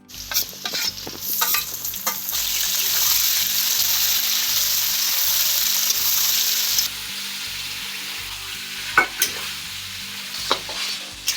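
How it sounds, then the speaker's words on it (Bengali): Pigeon meat sautéed in a pan with spices gives a loud continuous sizzle, broken by scraping and clattering stirring strokes that keep going as the frying dies down. "মাংস কষানো হচ্ছে এখন।"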